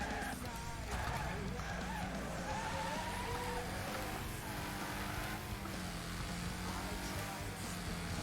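Racing engine roar and tire screech in the video game Getaway Heat as a car skids under the handbrake, a continuous dense mix of revving and squealing with no clear pauses, quiet overall.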